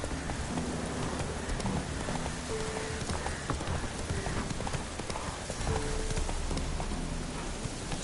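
Roach the horse from The Witcher 3 video game running in the rain, rapid hoofbeats pounding steadily under a constant hiss of rainfall, close and sustained throughout.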